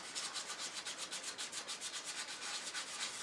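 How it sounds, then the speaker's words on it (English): Sandpaper rubs against a spinning wooden turned bowl on a lathe, making a steady, rhythmic rasping with quick regular pulses throughout, close and continuous. "want to do a little sanding"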